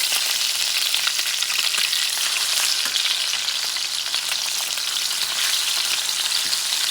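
Pork chops sizzle and fry loudly in a hot pan after being flipped, a constant bright crackle with occasional pops, no voice.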